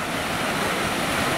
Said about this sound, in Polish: widać, że już woda się przelewa